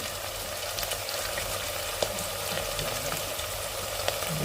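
Cloves and cinnamon sizzling in hot oil, a steady close bright frying hiss with a few small pops, no voices.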